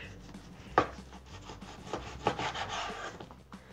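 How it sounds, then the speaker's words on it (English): Knife sawing through a smoked brisket, an overnight cook, with soft rubbing, scraping strokes and two sharper knocks as the blade meets the board, close up with no talking. "I'm gonna cut a couple slices here"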